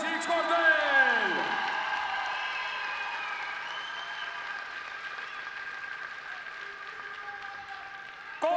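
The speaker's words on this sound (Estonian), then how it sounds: "Teeme neile vapratele võitlejatele suure aplausi üks kord veel." A crowd applauds at a combat sports fight gala, with sustained clapping filling a reverberant hall. An amplified announcer talks over it, and the applause fades slightly toward the end.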